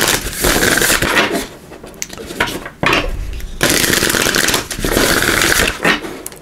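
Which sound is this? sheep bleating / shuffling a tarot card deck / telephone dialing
shuffling a tarot card deck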